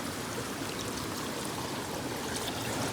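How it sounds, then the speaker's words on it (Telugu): Water pours into a pot for boiling crabs during village-style outdoor cooking, a faint, steady, continuous gush and trickle that runs the whole time without talk. "పీతలు ఉడకడానికి నీళ్ళు అయితే పోస్తున్నాము"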